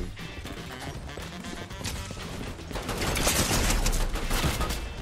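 Lock-on pistol gunfire in a Fortnite match, a dense run of rapid shots and impacts that grows louder in the second half amid busy game noise.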